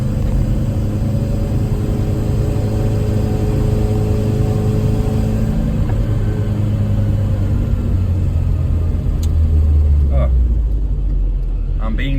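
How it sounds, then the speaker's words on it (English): A classic Mini's engine drones in a steady low rumble from inside the car while driving, with the pitch shifting gradually as it changes speed and a voice talking over it. "out in a Mini for a little drive around the Yorkshire Dales"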